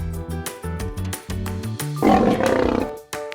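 Lion roar sound effect: a series of rhythmic, tonal grunting bursts building into a loud, rough, sustained roar, followed by a short final blast, clear and unaccompanied by talk.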